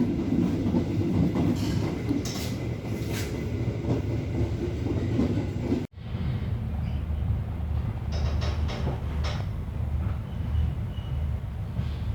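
Steady rumble of the Manahan passenger train rolling along the rails with faint clicking of wheels, a brief break midway, then the continuous rolling noise resumes.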